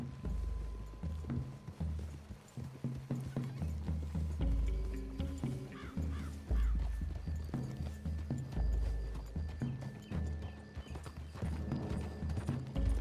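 Horses walk steadily in Red Dead Redemption 2, their hooves clip-clopping in a continuous rhythm with jangling tack and faint background sounds throughout.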